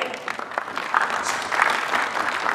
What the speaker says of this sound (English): I get applause on this.